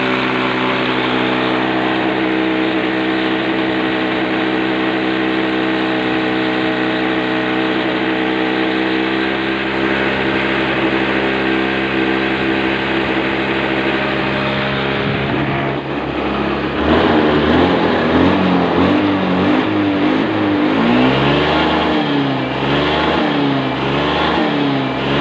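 A Honda Beat FI motorcycle with a sputtering fault runs at high RPM, its engine drone holding steady and loud before turning rough and surging in uneven waves partway through, with no talk.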